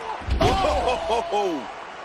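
A wrestler is slammed onto the ring canvas during a televised pro wrestling match, giving one heavy thud early on, under continuous commentator talk and crowd noise.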